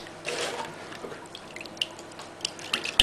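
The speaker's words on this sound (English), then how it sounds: "So I'm just going to pour that all in there." Milk poured into a bobotie mixture of soaked bread, a soft liquid gush followed by scattered close drips and small splashes, fairly quiet and without speech.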